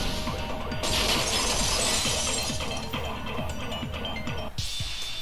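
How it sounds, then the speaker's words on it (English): A vase shatters in the video game Super Danganronpa 2, a loud crash of breaking glass followed by several seconds of bright scattering shards, with a second sharp break near the end. "If it wasn't the window, then what broke to make that sound? A vase."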